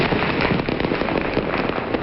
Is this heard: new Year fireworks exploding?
yes